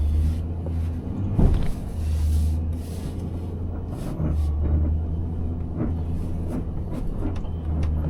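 An old truck pulls off and drives, a steady low engine rumble with bumps and rattles as it rolls along, fairly close and continuous.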